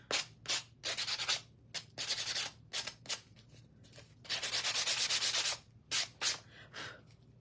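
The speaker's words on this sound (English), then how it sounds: "I'm going to sand just a smidge" A wooden candy corn shelf sitter craft piece is hand-sanded in short, uneven strokes, a close dry scratchy rasp in bursts with brief pauses, one longer stroke in the middle, no voices.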